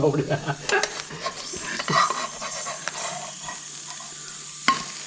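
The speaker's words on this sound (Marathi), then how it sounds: "अरे वा ऑमलेट सक्सेसफुली पलटी झालेला आहे" An omelette sizzles in a pan at a beach-side cooking spot, with scraping and clattering as it is flipped, a sharp clank near the end, and soft breathing and background noise around it.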